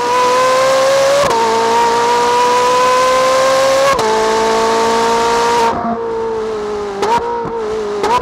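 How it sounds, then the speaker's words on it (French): A Ferrari engine with stock exhaust roars loud and close, its pitch stepping down through several downshifts with sharp blips between gears and a sustained tonal drone throughout. "j'adore ce bruit quand tu descends les vitesses"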